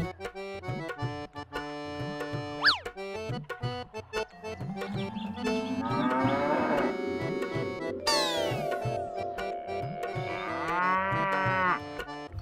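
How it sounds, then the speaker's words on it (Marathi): Cattle moo in long, drawn-out lowing calls over a backdrop of rhythmic music, several moos overlapping near the end. "त्याच्या जवळ हिरा आणि पन्ना असे 2 बैल होते."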